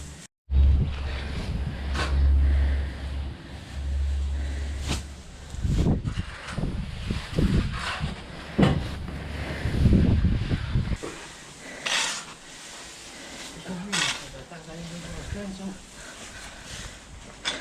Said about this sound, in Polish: dzisiaj tak wieje tutaj w tą stronę, że wyjemy strasznie wiało